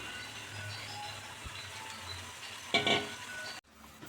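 Chicken with spice paste cooking in a pan for chicken rezala, a soft continuous sizzle with a few louder scraping stirs near the end before it suddenly drops away.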